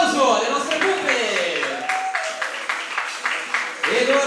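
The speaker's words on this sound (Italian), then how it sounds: "Facciamo un applauso alle nostre pupe!" A studio audience on the Italian TV variety show Bulli e Pupe applauds steadily for the showgirls, a dense continuous patter while a host's voice carries over the top.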